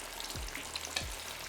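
Tofu deep frying in hot oil for a sticky spicy vegan dish, a steady close crackling sizzle with two brief low thumps partway through, no talking.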